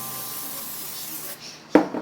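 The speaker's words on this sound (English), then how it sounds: "Then you gotta have some Pam cooking spray," Pam cooking spray hisses steadily over frozen taquitos headed for an air fryer, a close, continuous spray ending in a brief sharp burst and clatter.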